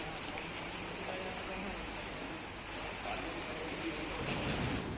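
Heavy monsoon rain in Uttarakhand, a dense, constant roar of water pouring down, loud and unbroken across the whole stretch with no distinct voices above it.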